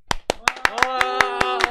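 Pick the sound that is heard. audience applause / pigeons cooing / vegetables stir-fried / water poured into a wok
audience applause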